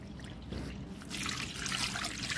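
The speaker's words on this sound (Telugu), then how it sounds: "సో నీళ్ళు అయితే ఇలా మొత్తం వంపుకోవాలన్నమాట." Water from washing mutton pieces is poured off, a faint trickling and splashing that swells into a steadier pour in the second half, heard alone and close.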